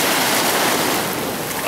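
Strong ocean waves surge over a black stone beach at Puerto Naos on La Palma, a dense, steady roar of surf washing close by with no voices.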